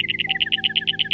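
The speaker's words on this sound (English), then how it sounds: "bird," Bird chirping in a steady rapid series of bright, high tweets, about ten calls in a second, close and clear with no talk.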